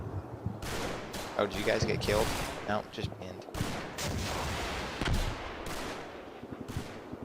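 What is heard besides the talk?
machine gun fire in Combat Mission video game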